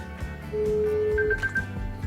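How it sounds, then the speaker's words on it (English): An iPhone places a test call: a steady dial tone sounds, then short repeated ring tones pulse over a low background hum. "Now let's make a test call."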